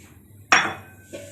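Half a kilo of mutton dropped into a hot karahi for Peshawari mutton karahi, landing with one sharp clattering impact and a short sizzling decay, then a smaller second knock, over quiet kitchen room tone.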